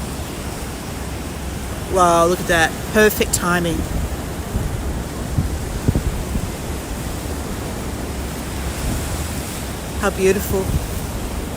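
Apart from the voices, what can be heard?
waves breaking over a rock shelf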